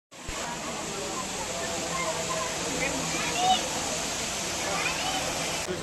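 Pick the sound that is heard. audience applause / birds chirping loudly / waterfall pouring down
waterfall pouring down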